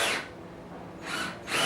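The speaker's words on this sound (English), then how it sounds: "as I drill this one in" A power drill drives a screw into wood in short whirring bursts, one at the start and two more near the end, with a quieter pause between them.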